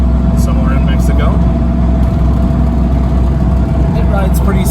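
A 1990 Ford Mustang LX 5.0 on the move, its steady engine drone mixed with road roar, wind noise and rumble from a slightly worn rear end, loud and continuous throughout, with someone talking over it.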